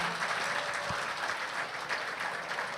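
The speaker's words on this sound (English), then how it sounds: "Let's give a round of applause to Linda Rainey" Audience at a horse racing hall of fame induction ceremony applauds an honoree, a continuous, moderately distant round of clapping from a large room, with a faint voice briefly underneath.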